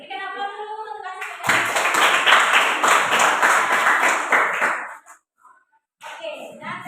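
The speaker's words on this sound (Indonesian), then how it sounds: "berikan aplaus dulu" A classroom group claps for a student group, a burst of close, lively hand clapping lasting a few seconds after a spoken word, then silence before talking resumes.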